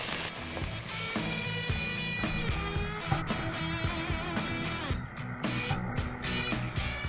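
Beef browns in a pot for goulash, giving a steady, dense sizzle that stays loud throughout with faint clinks and stirring noises over it.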